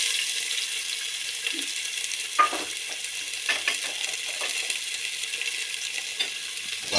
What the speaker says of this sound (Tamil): ஆனியனும் நம்மளுக்கு நல்ல ஒரு ப்ரௌனிஷ் கலர் வர வரைக்கும் நல்லா வணங்கணுங்க